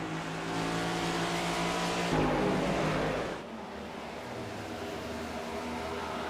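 Race cars in a Chapman Environmental Service Cup Series race roar loudly down the front straightaway on a racetrack, a sustained engine drone that surges for a moment as cars pass close, then settles to a steadier, slightly quieter hum.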